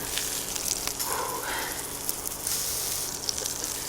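A burger fries in butter on a griddle, giving a soft, steady sizzle with scattered pops and crackles. It stays fairly quiet and close, and no one speaks over it.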